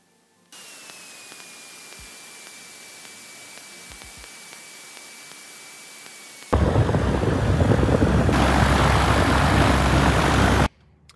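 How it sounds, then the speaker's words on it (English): A Cessna 182 light aircraft taxis at an airfield toward the fuel pump, its engine holding a steady drone that jumps abruptly to a much louder roar for several seconds before cutting off. "I'm going to taxi onto pump Foxtrot 1."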